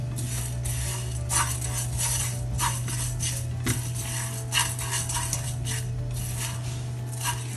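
Coriander and cumin seeds dry-roasting in a pan over a low flame while a spoon stirs them, making a steady run of light scraping and clicking strokes over a constant low background hum.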